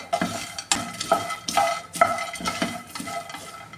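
Peanuts roast in a pan while being stirred for peanut candy, a dry rattling, scraping sizzle in rhythmic strokes about twice a second, close and fairly loud.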